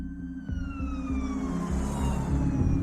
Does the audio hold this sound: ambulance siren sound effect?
yes